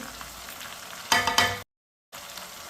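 Finely chopped tomatoes tipped into a hot pan for aloo matar, a short loud burst of sizzling and frying over a quieter background crackle, with a brief silent gap.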